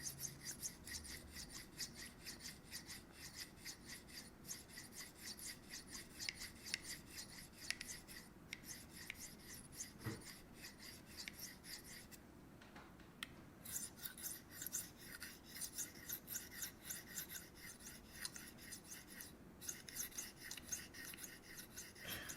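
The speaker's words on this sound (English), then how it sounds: "I just kind of run it back and forth, and when I think it's been long enough, I pull it off the stone" A knife blade is drawn back and forth across a sharpening stone in steady, close rasping strokes that continue with barely a pause, with no talking.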